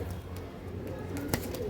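Pigeon in a pigeon sale setting in Hooghly, giving soft low coos in a brief burst as it is let go, with a faint flutter near the end and no talk.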